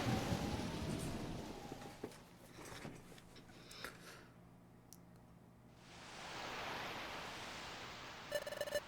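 Thunderstorm ambience from the video game Pokemon Mystery Dungeon: Explorers of Sky, with steady rain hiss and low rumbles that thin out midway, swell back, then end with a few bright chiming tones. No one speaks.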